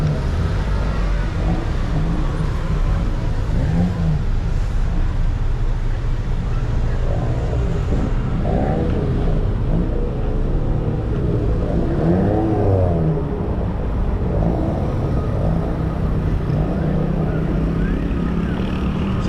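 Traffic streams along the highway in Bacalar, Quintana Roo, a steady roar of passing cars and trucks with engines rising and falling as vehicles go by, continuous and fairly loud.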